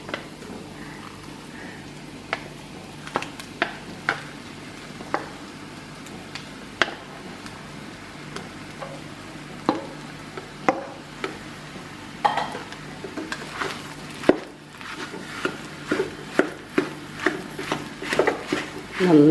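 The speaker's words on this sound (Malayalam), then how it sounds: "ബീഫും കൊള്ളിയൊക്കെ നന്നായിട്ടൊന്ന് മിക്സ് ചെയ്തെടുക്കും." Cooked, mashed tapioca being stirred together with beef in a pan, with a series of scraping clinks and taps of a spoon against the metal, growing busier toward the end, under quiet talk.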